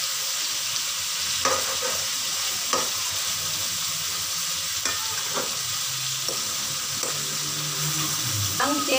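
Chicken karahi fries in a pan while being stirred, with a constant loud sizzle and hiss broken by occasional clinks and scrapes of the utensil, and a faint watery trickle in the background.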